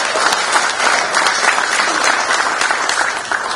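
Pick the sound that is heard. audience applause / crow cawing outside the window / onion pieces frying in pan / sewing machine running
audience applause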